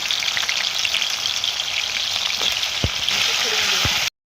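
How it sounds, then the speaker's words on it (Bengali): Chiti crabs fry in hot oil in a kadai, making a close, loud, continuous crackling sizzle with a few faint knocks near the end before it cuts off abruptly. "কাঁকড়াগুলো আমি ভেজে নিচ্ছি।"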